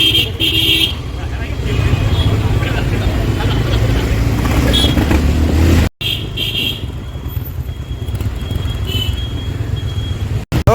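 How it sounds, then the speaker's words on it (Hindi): A long traffic jam of cars and motorbikes rumbles close by, with short car horn toots early on, while voices talk over the noise. "बहुत ही लंबा ट्रैफिक जाम लग गया है।"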